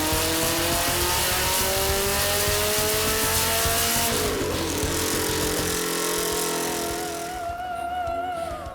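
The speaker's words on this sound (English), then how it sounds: "with the SAVspeed turbo conversion, it can easily wheel spin its way off the dyno" A BMW M3 with a turbo conversion spins its wheels on a dyno, a loud, sustained engine roar with squealing tires that holds for several seconds and then eases off near the end.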